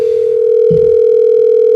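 An outgoing phone call rings out with a steady, loud tone that holds unbroken throughout; a faint low thump sits under it briefly near the middle.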